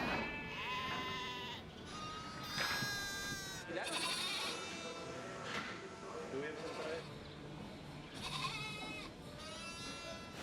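Flock of sheep bleating repeatedly during shearing on a Falklands estancia, many overlapping calls near and far over steady shed noise.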